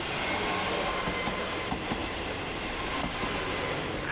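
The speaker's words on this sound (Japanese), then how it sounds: "線路の向こうから電車が来ます。" A red train comes along the railway tracks at a level crossing in the Kibiji countryside of Japan, a continuous rumbling roll of wheels with faint rattles and squeal, steady and fairly close.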